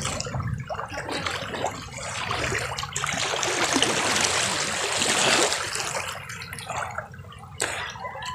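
A provincial river runs beside and behind a house, giving a continuous close rush and splash of flowing water that swells and eases, with occasional louder splashes near the end.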